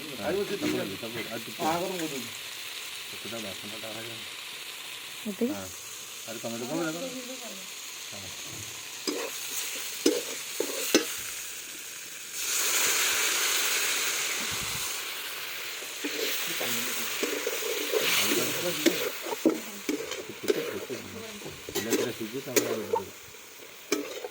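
Straw mushrooms cooking on a wood-fired clay stove give a steady sizzle and hiss with occasional stirring clatter, while voices talk over parts of it.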